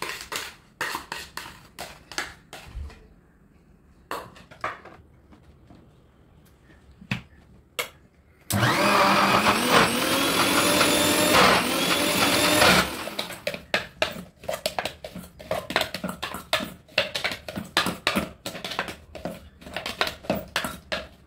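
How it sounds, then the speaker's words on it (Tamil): A kitchen mixer grinder whirs loudly through mango pieces in a single steady burst of about four seconds, framed by sharp clicks and handling knocks before and after. "மிக்சியில் எல்லாம் மாம்பழத்தையும் போட்டாச்சு."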